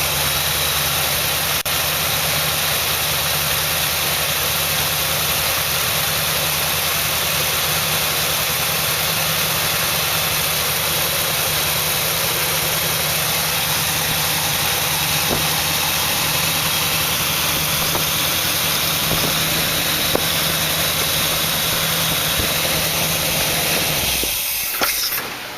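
A car engine idles roughly and continuously with a steady hum and hiss, sputtering and spitting back, then cuts off abruptly near the end.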